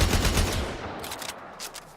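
Tiberon Prime rifle in Warframe firing full auto, a rapid loud stream of shots that fades into a few spaced cracks toward the end.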